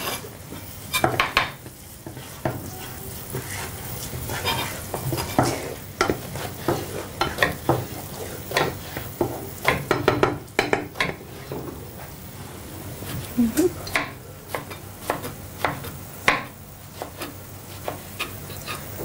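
Rice being stirred in a metal pot, roughly half a kilo, with repeated scraping strokes of a spoon against the pot in an irregular rhythm, close and fairly loud, with no talking.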